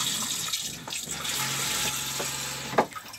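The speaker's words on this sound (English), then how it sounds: "Job number one is clean the toilet out with fresh water." Fresh water rushes and gurgles steadily through a Jabsco marine toilet aboard a boat moored in a marina, a continuous close flushing hiss with a brief louder splash near the end.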